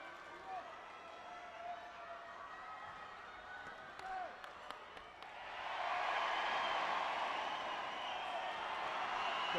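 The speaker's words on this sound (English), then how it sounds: "Crowd shouting" A crowd at a taekwondo match, including Korean fighter Lee Dae-hoon, swells into loud sustained shouting and roaring midway through, after a quieter arena murmur with squeaks and thumps.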